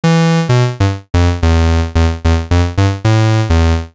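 Bitwig Grid patch with a Union synth oscillator running through a mixer and an ADSR envelope, built toward a Reese bass: about ten buzzy, saw-like bass notes in a choppy rhythm, close and loud, with no talking.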